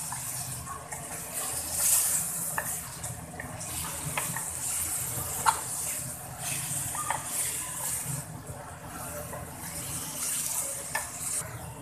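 Water pours into a pan of frying kidney masala with a soft, continuous gush and sizzle, punctuated by faint clicks and stirring sounds.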